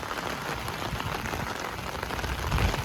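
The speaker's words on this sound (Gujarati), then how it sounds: "અટાણે ફૂલ વરસાદ ચાલુ જ છે અટાણે" Heavy rain pours steadily outdoors beside a farm field in wind, a dense close hiss of drops on surfaces that swells slightly louder near the end.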